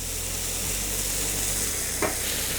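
Mushrooms sauté in oil over high heat, giving a constant close sizzle with a single brief stir or scrape near the end and no speech.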